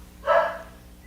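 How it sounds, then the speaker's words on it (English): A single short, muffled dog bark sounds indoors at a moderate distance, faint and quickly fading into a quiet room hum. "Apologize if you can hear my dogs barking."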